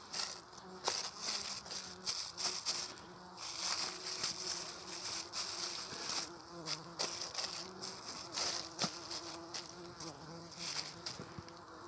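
Honey bees buzz in a dense, continuous drone around an open hive during winter feeding, steady and close for the whole stretch, with a few light knocks from handling and no talking.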